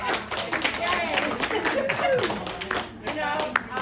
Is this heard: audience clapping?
yes